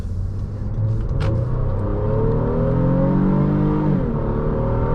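A 2023 Honda Pilot Trailsport with a Honda 10-speed gearbox revs steadily while accelerating, its engine note rising through the gears in a smooth, continuous hum that stays loud and close throughout, with no talking.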